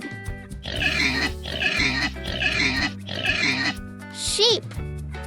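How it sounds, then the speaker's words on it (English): Cartoon pig grunting and oinking in several rhythmic bursts over a bouncy children's song backing, loud and close, closing with a bright chiming flourish. "Pig."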